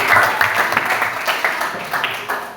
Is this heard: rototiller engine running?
no